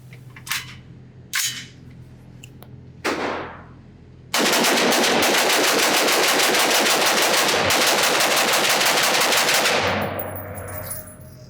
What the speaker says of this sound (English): let's just see how fast I can shoot this thing, even though it's kind of overgassed